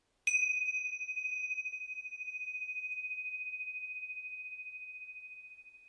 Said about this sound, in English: let your mind be taken by the sound of the bell.